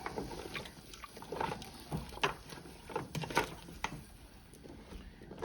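A spoon stirs stew in a pot, giving a series of irregular knocks and scrapes with wet sloshing between them, close and moderately loud, with no talking.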